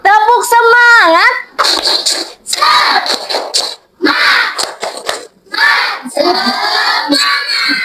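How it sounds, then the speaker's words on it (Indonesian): Schoolchildren in a classroom chant and shout together in bursts, with sharp rhythmic hand claps cutting between the phrases, loud and close, a voice leading at the start. "Tepuk semangat."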